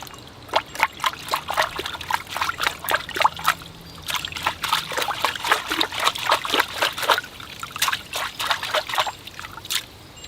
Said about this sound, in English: All right, here I go, washing the roots.